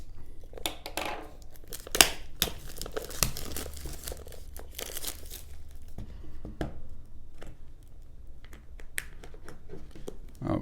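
Scissors and a blade snip and slice into the packaging of a Sofirn SE1 copper flashlight's box, giving sharp irregular clicks, crinkles and tearing crackles up close at low volume.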